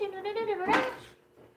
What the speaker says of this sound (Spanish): Qué lindos tus perritos.